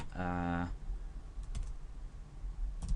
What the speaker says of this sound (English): I'm going to start typing an input tag